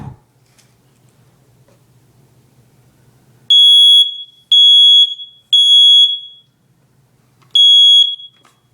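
An ionization smoke detector's alarm sounds in four loud, piercing high-pitched beeps at a regular rhythm after a quiet stretch with a faint low hum.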